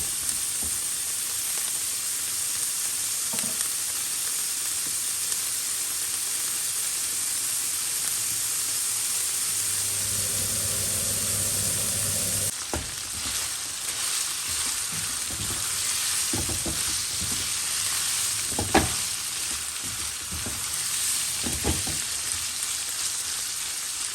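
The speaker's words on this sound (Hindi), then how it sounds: "अब इसे थोड़ी देर के लिए हम इसे फ्राई कर लेंगे इस तरह से।" Mutton mince frying in a little oil with salt gives off a steady, close sizzle. Stirring and scraping noises join in partway through, and no one speaks.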